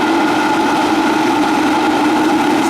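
A steady mechanical drone of strong suction from a saltwater aquarium siphon pump during a water change, a constant pump hum with a pitched whine on top, loud and close, unchanging throughout.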